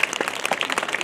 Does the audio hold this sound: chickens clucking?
no